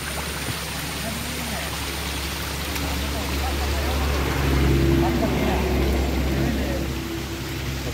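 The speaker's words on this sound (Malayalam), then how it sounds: "ഹലോ ഗൈസ്, മലകളിൽ നിന്ന് വെള്ളം വരുന്നതാണ്." Water running down from the mountains, a steady rushing flow heard alongside a low idling engine hum, with people talking faintly underneath.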